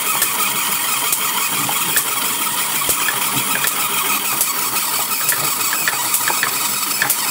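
A Wimshurst machine with its Leyden jars connected throws bigger sparks, a rapid irregular snapping crackle riding over a loud, continuous whirring hiss, close and steady throughout.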